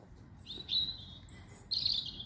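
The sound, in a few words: songbirds singing in spring, blackbird and robin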